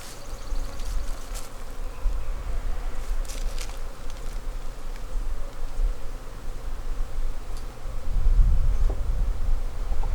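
Honeybees buzz steadily inside a hive as they pull new comb, a dense, close droning hum with occasional louder wing passes and a rustling bump near the end.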